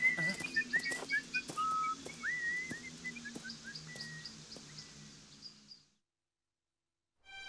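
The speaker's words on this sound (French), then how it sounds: "Et sifflons pour nous donner du courage." Characters in an animated Grimm fairy tale, Jean-de-Fer, whistle a bright, wavering melody together with short chirp-like notes over soft background music, then fall silent near the end.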